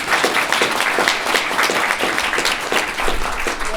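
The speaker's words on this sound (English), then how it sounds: "let's give them a round of applause" An audience at a youth entrepreneurship challenge applauds in a dense, steady wash of clapping, loud and close, sustained throughout without a break.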